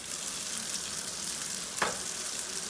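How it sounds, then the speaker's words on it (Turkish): Eggplant slices fry in hot oil in a pan, giving a steady, dense sizzle throughout with one brief clink partway through. "Patlıcanlarımızı kızarttık."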